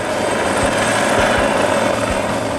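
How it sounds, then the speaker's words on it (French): Helicopter delivering construction materials onto a building rooftop in Visby, a loud, steady rotor and engine roar with faint low thumps, heard up close and continuous with no talking. "Un hélicoptère achemine des matériaux de construction directement sur le toit d'un bâtiment à Visby."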